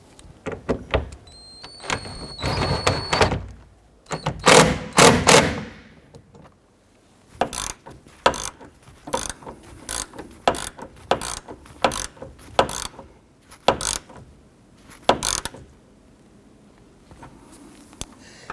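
Ratchet tightening the windshield frame header bolts on a 1997-2006 Jeep Wrangler, giving repeated sharp clicking bursts at close range, with quieter pauses between strokes.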